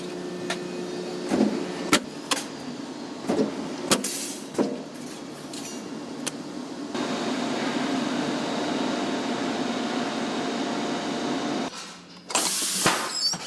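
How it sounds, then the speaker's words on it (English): Pressing machine cutting stainless steel sheet into a fan shape in a factory, with sharp clanks and thumps, then a steady mechanical drone and another loud burst near the end. "A stainless seat is cut into a shape of a fan by a pressing machine."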